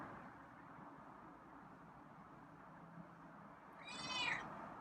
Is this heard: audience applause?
no